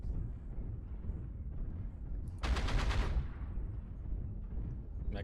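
Weapons test-fired in the Star Citizen space combat game: a loud, dense burst of rapid gunfire lasting about half a second, standing out over a steady low rumble of ship and ambient game noise.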